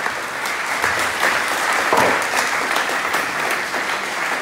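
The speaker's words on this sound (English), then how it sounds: "Get a round of applause for that." Dense, sustained applause from a live event audience at a screening and Q&A, a loud continuous wash of many hands clapping close by with no voices on top.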